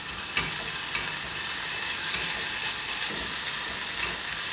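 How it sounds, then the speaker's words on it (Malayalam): Finely chopped ginger frying in hot oil in a pan, a steady close sizzle with occasional scraping stirs and small crackles. "അപ്പോൾ നമ്മുടെ ഇഞ്ചി ഏകദേശം മൊരിഞ്ഞുകൊണ്ടിരിക്കുകയാണ്"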